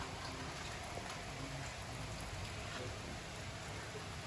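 Steady, dense rain falls in a summer shower in Florida, a continuous soft hiss of drops hitting surfaces with no breaks.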